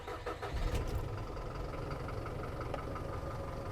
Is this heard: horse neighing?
no